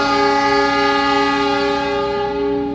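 Train arriving at a railway station platform in Indonesia gives a loud sustained horn with rich harmonic tones that holds steady for nearly three seconds before slightly fading.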